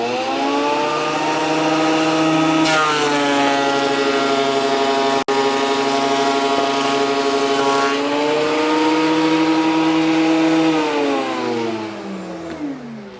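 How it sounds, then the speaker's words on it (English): Ryobi AP1305 12-1/2 inch thickness planer hums loudly as it takes a 1/8 inch cut, its motor pitch sagging under load, recovering, dipping again, then winding down, with one sharp click midway. "you could tell it's kind of taxing the motor to take off that full 1/8 inch"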